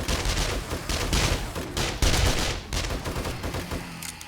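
Gunfire in the video game 7 Days To Die, loud dense bursts of rapid automatic shots, briefly broken and then resuming.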